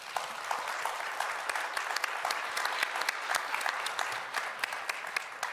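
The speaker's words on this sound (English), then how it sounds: "I would like to ask you to applaud this excellent panel." An audience at a NATO partnership policy panel applauds, a dense, steady round of clapping from many hands filling the room at moderate loudness, with no speech over it.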